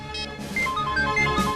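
A telephone rings unanswered, a short electronic ringtone warbling in a repeating pattern of bright pips, close and fairly loud with no one speaking over it.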